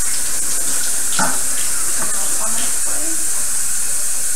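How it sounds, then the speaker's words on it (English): Water runs from a tap into a sink as hands are wetted for washing, a steady close hiss with a few brief splashy clatters along the way. "what we first want to do is we're going to turn on the water"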